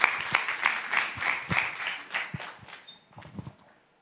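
Church congregation clapping during a service, with scattered, moderately quiet handclaps in a loose rhythm that thin out and fade away toward the end.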